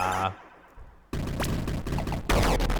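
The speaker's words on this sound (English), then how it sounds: "oh my god, see some of those explosions" Loud bursts and crackling blasts of explosions in the twin-stick arcade shooter Eugatron, an abrupt boom followed by rumbling, sizzling noise and another heavy blast at the end.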